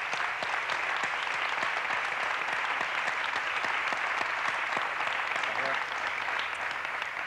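Audience applause at a magic show, dense and steady clapping from a large crowd that fills the whole stretch at an even level, with a faint murmur of voices underneath.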